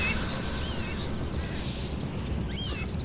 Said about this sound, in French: Des corbeaux-souris!